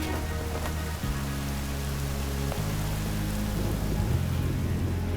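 Steady rain hisses across an outdoor fireworks setup for an Independence Day show, a dense, even wash of drops with low tonal hums shifting underneath, no talking.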